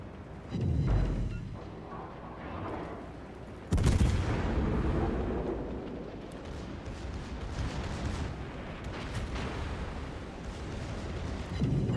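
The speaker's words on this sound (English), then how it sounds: "Why is everybody always shooting at me?" Naval gunfire striking a ship in a video game, with heavy booming impacts and rumbling explosions layered in dense, loud bursts that rise sharply partway through and keep rolling.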